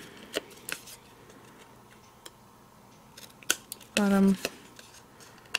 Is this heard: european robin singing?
no